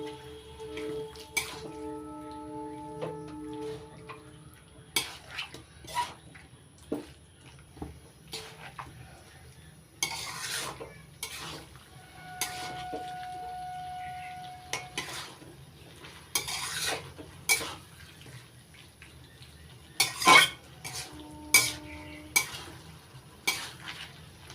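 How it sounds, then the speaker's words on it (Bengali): A utensil stirs Malabar spinach vegetarian curry in a pan: repeated scraping and clanking strokes against the metal over a low, steady simmer, with irregular bursts of stirring throughout. "নাড়াচাড়া করে ভালো করে মিশিয়ে নিচ্ছি।"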